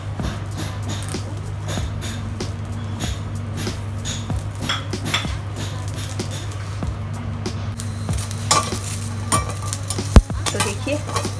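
Ginger, garlic, onion and green chili dry roasting in a pan for an aloo baingan wadi masala, heard as steady stirring with scattered spoon clinks against the metal and one sharp knock near the end, under a constant low hum.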